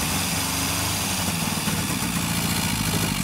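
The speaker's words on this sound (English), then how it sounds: "there you go, spitting back through the carburetor." An MGB engine runs roughly with a faulty replacement carburetor, spitting back through it. A loud, continuous, rough mechanical roar with uneven, sputtering pulses throughout, heard up close.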